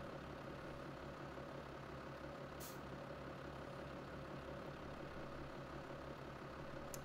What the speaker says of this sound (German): der Traktor im Standlauf, der klingt so nice, der blaue.